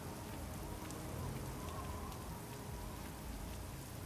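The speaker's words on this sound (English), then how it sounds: "George casually walks around in the rain." Rain falls in the Broken Sword 4 video game, a faint, even wash of downpour patter that continues unbroken throughout without any voices.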